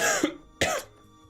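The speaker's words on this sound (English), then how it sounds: "It's a cough" Two short, sharp coughs from one person, close and loud, the second following about half a second after the first, with no talking around them.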